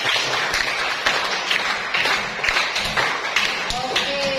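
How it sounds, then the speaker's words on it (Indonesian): A high school class claps together in a classroom, a dense rhythmic patter of many hands with regular accented beats, fairly close and filling the whole moment. "Berikan tepuk tangan 8 kali."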